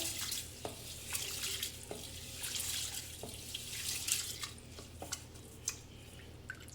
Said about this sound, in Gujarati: એને પણ આપણે પાણીથી સારી રીતે ધોઈ લઈશું